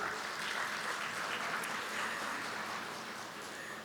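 Delegates at a plenary session on public-service digitalisation clap together in a sustained, fairly distant round of applause that tapers slightly toward the end.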